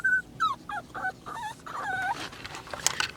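Puppies whine in a string of high, wavering whimpers and yips close by, rising and falling in short bursts with brief gaps between them.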